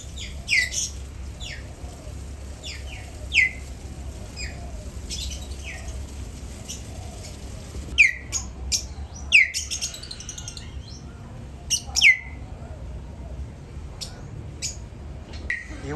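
Small birds chirp and tweet in Bangkok, scattered short calls near and far over a steady low urban hum, with a few louder squawks clustered toward the end.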